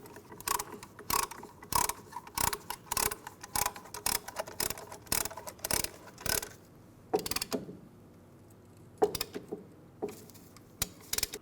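Brake caliper piston tool on a 2012-2016 Honda CR-V front brake, cranked by hand in a run of quick, close metallic ratcheting clicks that pause briefly partway through and then resume.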